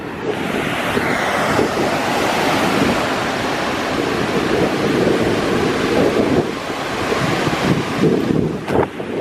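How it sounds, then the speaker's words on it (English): Ocean surf rolls and crashes in surging swells up toward a sand dune, mixed with strong wind buffeting the microphone, loud and close. "So every time these waves crash up like this"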